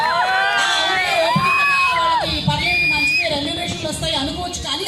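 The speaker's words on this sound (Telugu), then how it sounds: "గట్టిగా ఒకసారి మీరు చప్పట్లతో ఆవిడకి అభినందన తెలియచెప్పాలి" A large live crowd at an event for actress Meenakshi Chaudhary in Nellore cheers and whoops loudly and continuously, with high shouts and excited screams over a dense hubbub close at hand.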